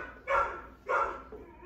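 A dog on a short slip chain during reactivity training gives two loud, close barks about half a second apart, then a fainter yip, with no talk.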